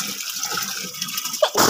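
Water from a motor pump gushes and fills a container in a steady, close rushing hiss, then surges into a louder splashing burst near the end.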